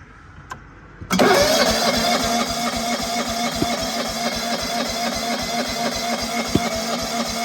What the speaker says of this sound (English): I did kind of hear some backfiring out of the muffler